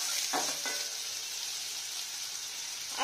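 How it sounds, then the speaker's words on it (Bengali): Chopped onions sizzle steadily in a hot pan while a ghugni curry is cooked, with a brief stir and a scrape of the spoon, close and continuous with no talking. "পেঁয়াজটাকে একদম ভালো করে লাল লাল করে ভাজবো।"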